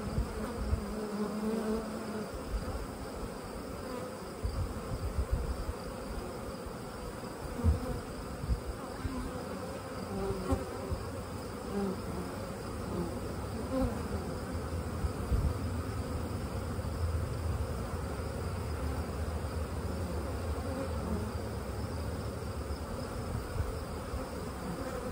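Honeybees buzzing steadily around open beehive colonies in late August, a dense continuous drone of many bees at close range with faint handling sounds underneath, no speech.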